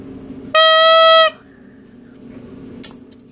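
The first tenor drone of a Kinnaird Evolution bagpipe, fitted with brand-new reeds, sounds one short, bright, high-pitched reedy tone lasting under a second, close and loud, followed by quiet room noise.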